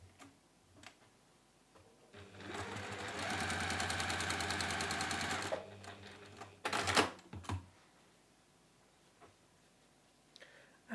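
A sewing machine stitches quilt squares into a row for a zig zag quilt, running in one steady, fast mechanical burst of about three seconds, followed by a few clicks and handling knocks in an otherwise quiet room.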